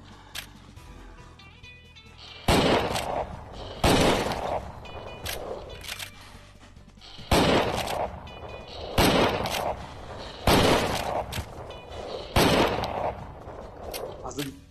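Rifle shots in the Wild West VR shooter Private Property, played on a Pico 4 headset: about seven loud, sharp single reports spaced a second or two apart, each with a ringing tail, over a quiet background.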